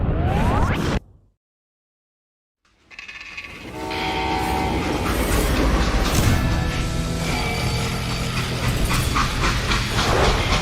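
Train in the video game Call of Juarez: Gunslinger, a loud whoosh that cuts to brief silence, then a rushing, rumbling freight train with horn-like tones and clanking, sustained and close for several seconds.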